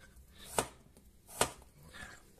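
Two crisp knife chops through potatoes and onions on a cutting board, evenly spaced and close, over a quiet kitchen background with no speech.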